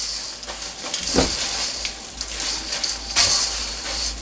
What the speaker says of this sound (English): Toss in our popcorn. Just give it a good stir.